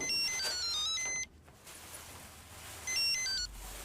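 A telephone rings after dialing, two bursts of electronic ringing separated by a pause, close and fairly loud with no talking.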